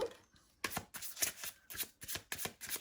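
A deck of tarot cards shuffled by hand in a series of crisp, rapid riffling bursts, close and fairly loud, after a brief quiet start.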